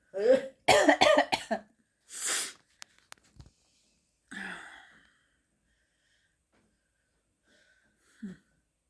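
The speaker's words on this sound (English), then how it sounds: "Let's cough together." Several bursts of coughing, a rapid cluster followed by single harsh coughs spaced out with silence between them, then one short final cough.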